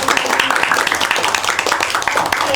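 A class claps hands together during a geography microteaching lesson, a dense, lively burst of close clapping that fills the whole moment.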